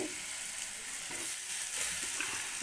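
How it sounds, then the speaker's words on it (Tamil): Eggplant sautés in oil, a soft, continuous hiss of frying heard close but fairly quiet, with no talking. "கத்திரிக்காய் போட்டு 2 வதக்கிக்கிட்டு"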